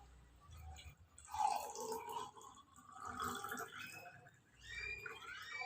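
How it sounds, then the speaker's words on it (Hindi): Water poured into a drinking glass in a simple light experiment, a soft gurgling, trickling fill that swells and fades in a few waves, close and fairly quiet, no talk. "अब इसमें पानी डालते हैं और हम देखते हैं कि ये एरो का क्या होता है।"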